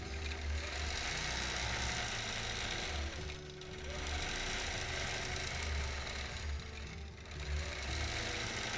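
A sewing machine runs steadily during free motion quilting on a mountains-and-grass pattern quilt, a loud continuous hum and rapid stitching rhythm with two brief slowdowns.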